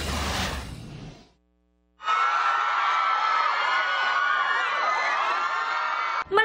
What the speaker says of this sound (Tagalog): Malakas na hiyawan ang isinalubong ng armies from different parts of the world kina BTS members Jimin at Jungkook